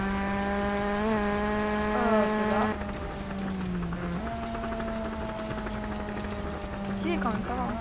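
Vehicle slowing on tarmac by downshifting, a steady engine hum that drops in pitch in steps as gears change, with someone talking over it.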